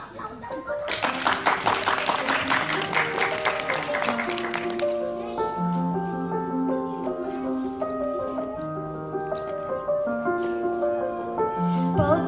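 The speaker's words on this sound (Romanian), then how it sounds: "Aplauze! Aplauze!" An audience at a kids' talent show applauds with a dense burst of clapping for several seconds, which then gives way to a tonal, melodic passage of music or singing.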